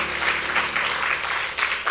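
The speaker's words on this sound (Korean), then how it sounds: "우리 박수로 하나님께 영광 다시 한번 돌리겠습니다" A church congregation applauds at a Christmas joint worship service, steady dense clapping from many hands filling the room for a couple of seconds, with no talk over it.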